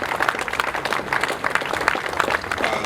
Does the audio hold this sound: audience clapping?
yes